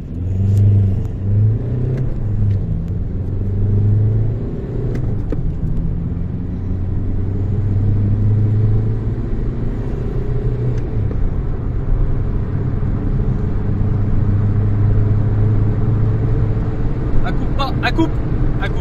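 A Volkswagen 1.9 TDI with a turbo cut-out fault pulls away, its engine a low steady rumble that builds slightly as it drives off, close and continuous, with a few faint clicks near the end.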